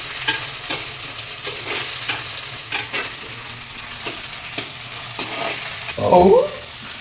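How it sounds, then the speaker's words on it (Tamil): Steady sizzling and frying of chopped tomatoes in a pan with occasional stirring scrapes, a louder hiss swelling near the end. "போட்டு நல்லா வதக்கணும்."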